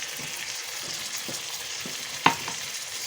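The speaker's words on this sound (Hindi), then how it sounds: "मसाले हमारे देखिए अच्छी तरह फ्राई हो गए हैं।" Spices with ground white cumin and soy sauce fry in a pan for chicken jalfrezi, giving a soft, even sizzle with a few light stirring taps and one sharper clink, close up and without speech.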